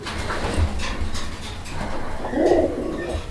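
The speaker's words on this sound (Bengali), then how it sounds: "বন্ধুরা, আপনারা দেখতে পাচ্ছেন এখানে একটা সিঙ্গেল কবুতর আছে" A single male pigeon, a sky-blue bird kept among domestic and fancy pigeons for sale, gives a low, rolling coo near the end against steady background bustle and faint chirps.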